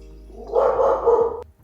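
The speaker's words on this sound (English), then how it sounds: "is barking her ass off right now" A dog barks close by, one drawn-out bark followed by a short yelp, loud and alone with no talking.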